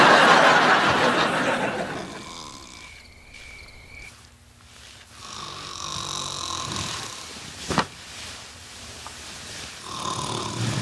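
A man snores in a garage at night, slow rasping breaths rising and falling under a steady hiss of background noise, with a brief sharp knock midway.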